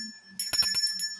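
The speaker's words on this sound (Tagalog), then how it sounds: "sorry kasi medyo hindi maganda yung bell natin ngayon" A small bell rung during a tarot reading, a few quick bright strikes in a short burst with a steady high ring over a quiet room.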